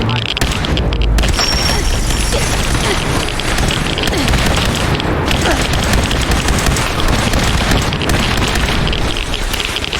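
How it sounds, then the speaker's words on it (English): Constant loud barrage of gunfire and booming explosions in Fallout 4 VR during a fight aboard the USS Constitution, with no break through the whole stretch. "I'm gonna start shooting."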